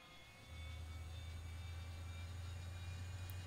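Arado 234 Blitz jet engine spinning up in a flight simulator, a quiet steady low hum that kicks in after a brief pause and holds evenly, with faint high whine above it.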